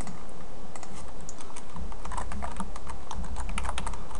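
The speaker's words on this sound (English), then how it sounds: "So let's go ahead and type that in." An SQL command typed on a computer keyboard in quick, irregular bursts of close, crisp key clicks, with a low steady hum in the background.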